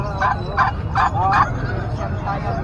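Poultry at a Saturday pet market in San Carlos City, Pangasinan call out in a run of four or five rhythmic, gobbling squawks close by, then fall to quieter clucks over market background noise.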